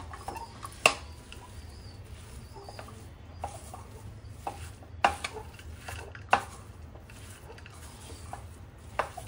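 A sticky date and dry fruit ladoo mixture with cardamom powder and poppy seeds is stirred in a pan, giving soft scraping with a few sharp knocks of a spoon against the pan, quiet and close.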